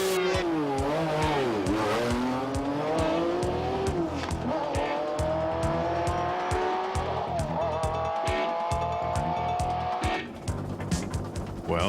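Off-road race cars roar around a race course, engines revving with climbing pitch and tires squealing in a loud, continuous, close-up rush of racing noise.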